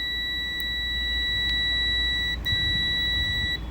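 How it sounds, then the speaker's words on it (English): Steady electronic beeping tone from a multimeter continuity buzzer with probes touched together, held continuously, with brief dips and restarts, over low background hum. "if we touch our probes together, it will give a beep and the value will be 0"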